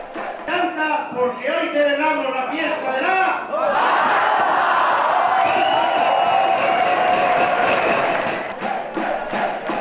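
A large crowd in a 700-seat festival restaurant cheers and shouts in rhythmic bursts that build into a sustained roar of excited voices, loud and close.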